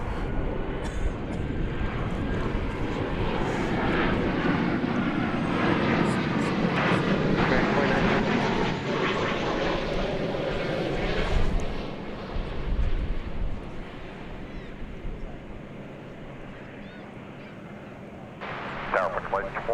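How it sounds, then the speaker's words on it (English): A Boeing 737-800 arrives at Dallas/Fort Worth International Airport. Its jet roar swells loudly, then fades to a lower rumble, with wind buffeting and a voice talking over it. "Our arrival there was flight 1552 from Colorado Springs, a 737-800."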